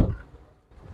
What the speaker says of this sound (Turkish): Bir de kapı sesini dinleyelim arkadaşlar.